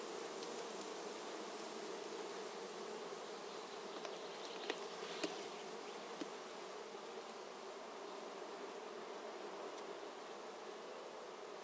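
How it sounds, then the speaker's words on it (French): A honeybee swarm, collected from a tree, hums inside a Warré hive, a steady dense buzzing drone with occasional faint ticks, continuous and fairly quiet, heard close with no talking. "C'est un essaim que j'ai récolté dans un arbre"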